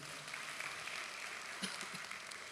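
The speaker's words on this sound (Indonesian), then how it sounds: "Tepuk tangan untuk Tuhan." Congregation applause during an online church service, a steady faint wash of clapping heard from a distance with no talk.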